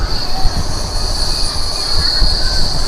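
The Tirupati–Puducherry MEMU Express rumbles along the rails at speed, a loud steady roar with a sustained high wheel squeal above it and faint rhythmic clacks beneath.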